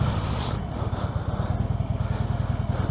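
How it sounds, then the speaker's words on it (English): Harley-Davidson Road King motorcycle engine revving at slow speed during tight manoeuvres, a loud, steady low throbbing pulse close by with a brief louder rev at the start. "I don't care when I'm doing these manoeuvres if the revs are ridiculously loud. This is a big bike."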